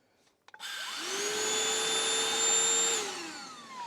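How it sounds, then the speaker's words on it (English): A small cordless Shark handheld car vacuum with a motorised beater whirs up to a steady high-pitched motor whine after a couple of clicks, runs evenly for about two seconds, then winds down. "the bit that's missing from most car-sized vacuums is a motorised beater"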